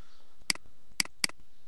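Three crisp computer keyboard keystrokes while entering data in an Excel spreadsheet: one click, a pause, then two quick ones, close and clear over a quiet room with no talking.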